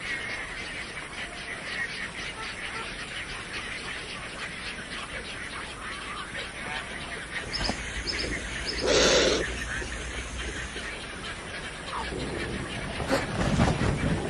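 Wild birds call across a South American wetland where piranha get trapped in shallow pools, with steady chirps and calls over a continuous ambient hiss and a louder squawk about two-thirds of the way through.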